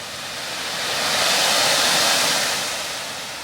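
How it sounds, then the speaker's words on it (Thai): Waterfall at Kongens Utsikt near Hønefoss, Norway, a loud continuous broadband roar of falling water that swells in the middle and eases slightly at the ends, no talk. "จุดแวะชมน้ำตก"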